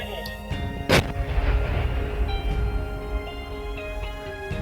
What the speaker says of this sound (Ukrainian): Увага! Вибух!